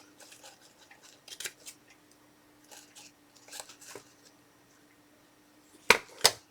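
Scissors snip through paper craft pieces for a chicken-themed recipe photo organizer, a few soft cuts early on and two sharper, louder snips near the end, with quiet room tone between.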